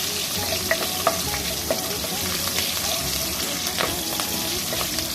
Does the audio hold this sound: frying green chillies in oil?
yes